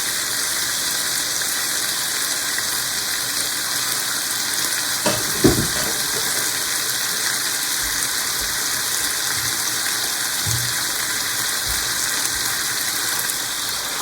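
Spicy pork stir-frying in a pan, a steady broadband hiss of sizzling oil held for the whole stretch, with a few soft knocks and clatters of a utensil partway through; no voices.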